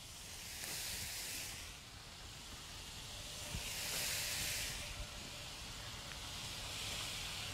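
Onion, red and green pepper, and celery sizzle in a skillet, giving a steady, soft hiss that swells and fades in waves, with an occasional faint clink.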